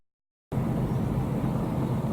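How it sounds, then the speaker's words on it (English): Motorbikes passing along a coastal road by a river marina in Glenarm: after a half-second of silence, a steady broad engine and road roar sets in, constant and fairly loud, with no talk. "A lot of bikes, motorbikes passing by here."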